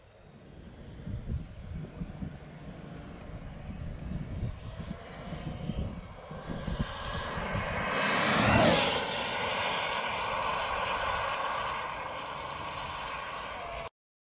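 A 1/5 scale Kraton 8S RC car on a speed run, its motor building to a loud high-pitched whine that peaks as it blasts past around the middle, then a sustained rushing drone with wind noise and no talk.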